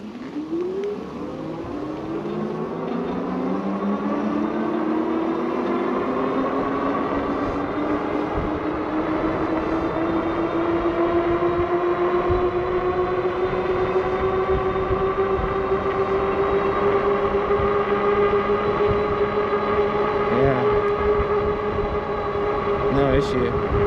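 Windone K2 fat tire e-bike running on throttle alone, its electric motor whine rising in pitch as it accelerates and then holding a steady tone, close and fairly loud with wind and road noise, a voice talking briefly over it.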